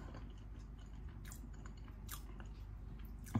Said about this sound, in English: I low-key just ate like one potato whilst I was making this, so I took another one